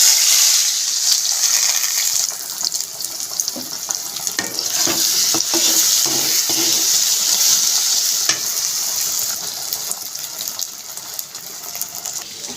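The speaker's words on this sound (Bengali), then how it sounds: "ভেজে নেব।" Food fries in hot oil in a pan with a loud, continuous hiss and crackle, close up and steady throughout, with occasional faint clinks over the sizzle and no one talking.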